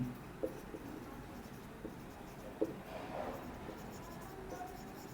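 Chalk or marker writes on a board during a maths lesson on trigonometry, with faint scratchy strokes and occasional taps under steady room noise.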